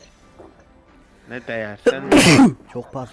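A single sharp, loud sneeze bursts out mid-conversation among friends playing LoL TFT online, with talking just before and after it.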